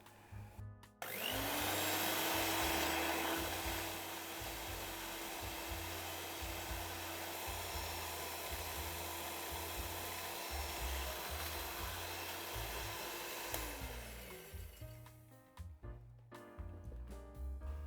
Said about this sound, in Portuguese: Vou bater até formar um chantilly.